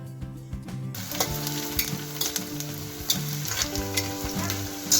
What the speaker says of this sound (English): This allows the peanut to continue roasting slightly while the onions cook.